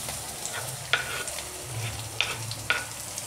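Chopped onion frying in a pan for baingan bharta, a steady soft sizzle with a few sharp clinks of a spoon stirring, close and without talk.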